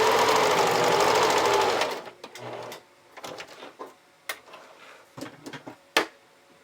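Sewing machine running a tight zigzag stitch on a bralette strap in one close, steady burst for about two seconds, then stopping, followed by light handling clicks and taps of fabric and machine parts.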